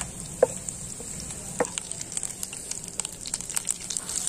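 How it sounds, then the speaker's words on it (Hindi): Garlic and ginger frying in hot desi ghee, a steady close sizzle with fine crackling and a few sharp pops, continuous throughout with no voices. "देसी घी को गर्म होने दो भी थोड़ा। लहसुन और अदरक डालेंगे इसमें"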